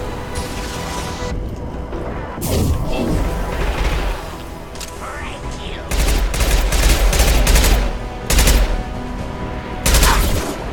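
Weapons fire in a Mass Effect 2 firefight, with dense bursts of gunshots and booming impacts in several loud clusters, near and heavy, with a voice talking between volleys.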